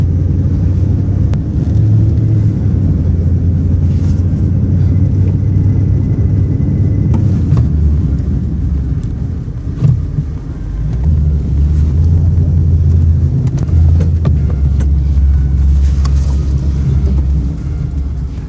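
A car out on a test drive gives a steady, loud, close low rumble of engine and road noise that swells and eases slightly over the whole stretch, with no talking.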